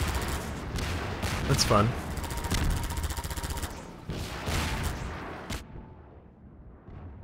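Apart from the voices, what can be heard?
gunfire shooting down rockets in Half-Life 2 video game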